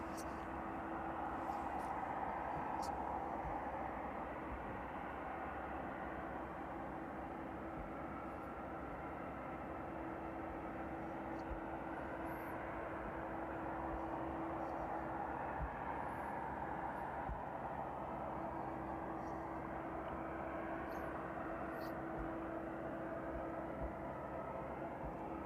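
A cargo aircraft approaching the runway at East Midlands Airport in the evening: a steady, distant broadband roar with a faint hum that holds throughout, no talk over it.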